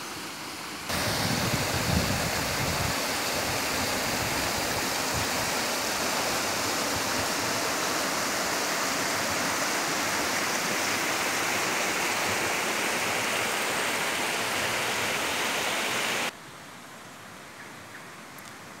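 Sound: flowing stream, Arroyo El Palmar

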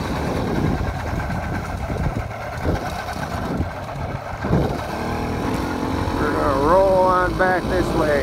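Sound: 80cc motorbike engine running during a ride

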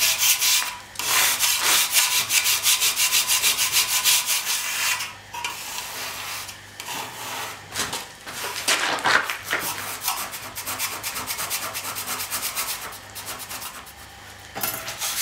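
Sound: diamond plate rubbing cast concrete surface

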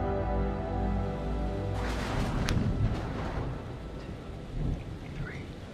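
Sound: thunderstorm in Man of Medan video game

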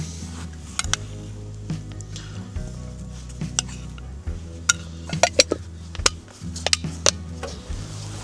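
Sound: food sizzling and spattering in pan

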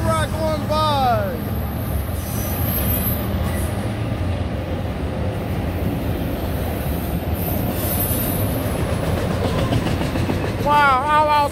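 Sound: autorack freight train passing

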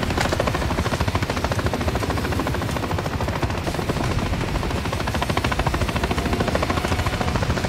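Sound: helicopter in video game Call of Duty Modern Warfare 3

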